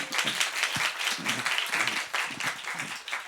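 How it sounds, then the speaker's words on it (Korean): A church congregation claps at a revival service, an even rhythmic patter of applause from a room full of people, moderately loud and steady throughout. "박수, 박수."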